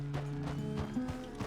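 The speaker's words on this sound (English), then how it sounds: "The horse can feel your fear." A horse's hooves clip-clop steadily while it is being ridden, a close run of soft rhythmic thuds over a low background hum.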